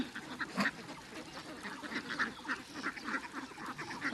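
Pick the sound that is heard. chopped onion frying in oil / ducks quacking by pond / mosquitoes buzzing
ducks quacking by pond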